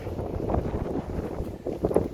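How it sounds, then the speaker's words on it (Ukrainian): Outdoor wind buffets the microphone in steady low rumbling gusts, loud and continuous with brief swells, near a truck dealership with no voice over it. "Я не знаю, як буде вітер, напевно."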